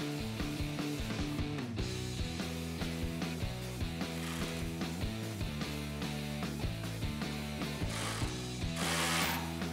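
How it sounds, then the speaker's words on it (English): A ratchet with an 18 mm socket tightens a through bolt on a steel rear bumper of a Jeep Gladiator JT, giving bursts of close, crisp clicking with short pauses between strokes. "Now we have one more bolt to tighten down."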